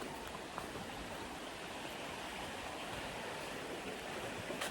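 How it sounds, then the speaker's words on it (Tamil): Water pours from a waterfall in a forest as a steady, even rushing hiss that stays constant and fairly faint, with no voices. "தண்ணியோட சவுண்டு கேட்கும் கண்டிப்பாக உங்களுக்கு."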